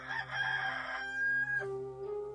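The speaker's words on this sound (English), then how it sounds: "and a rooster crowed." A rooster crows loudly and close, one long drawn-out cock-a-doodle-doo that rises, holds and then falls away, heard alone.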